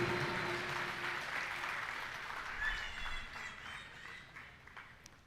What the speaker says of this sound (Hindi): ज़ोरदार तालियों से उनका खैर मकदम किया जाए।